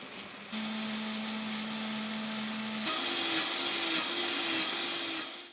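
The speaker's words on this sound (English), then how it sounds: "And now we're going to blend this together." A kitchen blender whirs through mango flesh and milk, its steady motor hum jumping to a higher pitch partway through as the blades speed up, loud and close with no talking.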